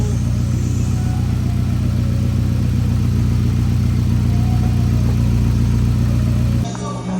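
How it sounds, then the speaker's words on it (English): A Nissan 240SX S13 runs at a steady, loud idle close by, its low even engine drone unbroken for several seconds before cutting off abruptly near the end. "All right, car starts, man. It starts."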